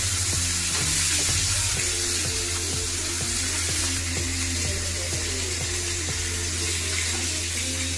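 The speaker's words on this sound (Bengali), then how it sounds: "হালকা ভেজে নিলেই হবে, অত বেশি ভাজবো না।" Pieces of rohu fish frying lightly in hot oil give a steady, close sizzle with constant crackling and occasional sharper pops running through the whole stretch.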